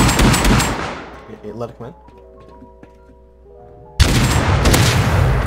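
Loud bursts of gunfire open and close a Rust match, separated by a quieter stretch with ringing tones, while a player speaks briefly over the shooting.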